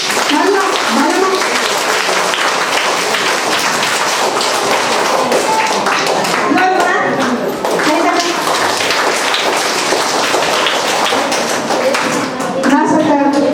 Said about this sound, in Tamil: ஒரு பலத்த கைத்தட்டல்